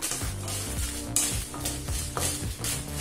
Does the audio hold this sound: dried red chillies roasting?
yes